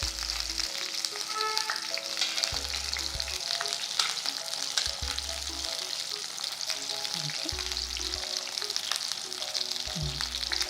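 Stuffed capsicums fry steadily in hot oil, a continuous close sizzle that runs unbroken throughout with no voices.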